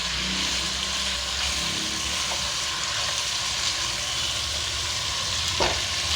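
Chicken pieces fry in hot oil for a salan gravy, giving a steady, close broadband sizzle with occasional stirring scrapes and no voices.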